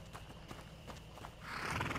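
Horse in the video game A Plague Tale: Innocence, with clip-clop hoofbeats and a whinny over steady game ambience, growing louder toward the end.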